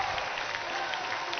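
Home crowd at an Adelaide Storm men's volleyball match against Perth Steel cheering and clapping after a rally, a steady, fairly faint roar of applause heard from a distance in an indoor arena.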